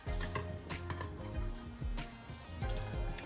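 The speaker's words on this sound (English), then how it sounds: "So at this point, I'm going to add the mung bean dal." Soaked mung bean dal goes into a pot of boiling coconut milk, with close metallic clinks and scrapes of a utensil against the pot and a steady low bubbling beneath, with no talk.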